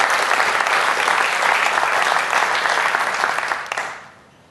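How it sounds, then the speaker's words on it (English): A marketing summit audience claps in sustained, dense applause, loud and even throughout before tapering off at the end, with no talk over it. "Please join me in giving them a round of applause."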